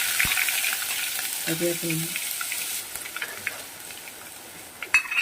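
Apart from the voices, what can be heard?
ginger and garlic frying in a pan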